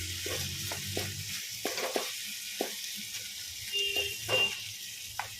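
Banana flower being stirred and fried in a pan on a gas flame, giving a soft steady sizzle with occasional scraping stir strokes throughout.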